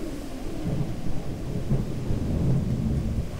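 A video game thunderstorm with a low, continuous rumble of thunder over steady rain, filling the whole stretch at moderate loudness with no talk over it.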